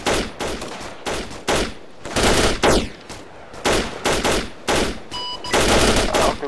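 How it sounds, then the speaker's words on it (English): Rapid bursts of gunfire crack out in a military video game, loud repeated volleys of automatic fire separated by short gaps, with no talking. "giving them 1 minute of rapid fire"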